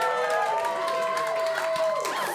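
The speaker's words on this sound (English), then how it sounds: "You guys clapped." Applause and cheering from a comedy club audience, a dense, steady wash of clapping with some whoops, close and loud throughout.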